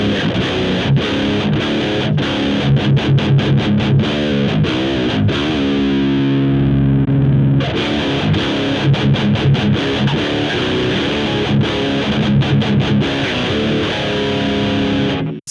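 Distorted electric guitar through the JCM 2000 amp model of a Zoom MS-50G multi-effects pedal, with low-gain settings, playing loud chugging chords and palm-muted riffs with a brief sustained ringing chord in the middle.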